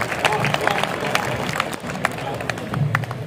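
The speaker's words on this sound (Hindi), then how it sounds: "एक बार जोरदार तालियों के साथ स्वागत कीजिए विनीत चौहान" A crowd in a large festival pandal at a Meerut Mahotsav poetry gathering applauds to welcome a poet, a dense, continuous wash of clapping and crowd noise throughout.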